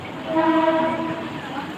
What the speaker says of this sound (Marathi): मला ही ट्रेन म्हणतात ना साडे दहाची ट्रेन